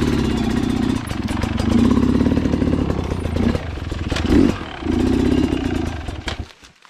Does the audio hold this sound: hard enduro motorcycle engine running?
yes